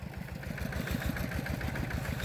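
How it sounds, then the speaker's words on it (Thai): A tractor engine drives a water pump, giving a close, steady, rhythmic thumping chug with fast, even pulses and a clattery mechanical edge, with no voices. "อันนี้เพิ่นไม่มีเพิ่นก็อาศัยรถไถเอา สูบน้ำนะะ"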